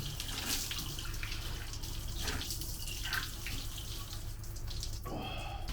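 Water runs steadily from a village spring fountain while someone washes their face, a continuous close splashing flow with brief interruptions and a change in the stream near the end.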